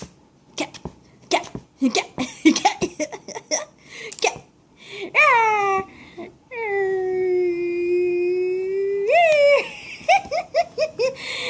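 A dog lets out a string of short whines and yelps, then a long sustained howl that rises and wavers before breaking back into whimpers.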